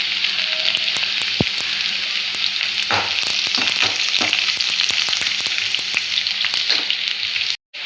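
Chopped peeled garlic fries in hot oil in a pan for gobi manchurian, giving a loud, steady sizzle with scattered crackles and pops, and a brief scrape or stir near the end.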